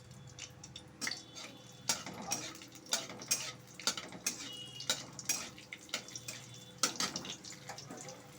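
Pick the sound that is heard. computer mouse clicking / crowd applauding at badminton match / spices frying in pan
spices frying in pan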